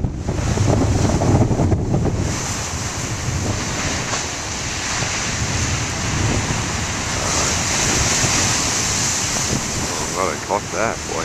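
Big ocean waves roll and break amid heavy wind buffeting the microphone, a loud, continuous roar of surf and gusts up close, with a person talking faintly in the final seconds.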